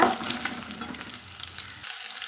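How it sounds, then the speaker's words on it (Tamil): Small onions sizzle and fry in a hot pan for curry leaf kuzhambu, a steady close crackling hiss with some stirring, heard alone and ending abruptly. "சின்ன வெங்காயம் பத்து பல் எடுத்து வச்சுருக்கலாங்க அதையும் போட்டுக்கலாங்க ஒரு நிமிஷம் நல்லா வதங்கட்டுங்க"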